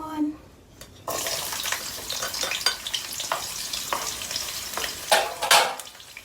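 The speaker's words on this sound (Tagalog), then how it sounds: "Medyo mainit na ang ating oil, so ilagay na natin yung ating onion." Garden-grown onion hits hot oil with a sudden hiss, then a steady sizzle with stirring scrapes and a couple of louder bursts near the end.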